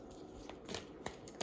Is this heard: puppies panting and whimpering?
no